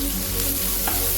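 Two medium onions sizzle and crackle loudly in hot oil, a dense continuous frying hiss with no voices.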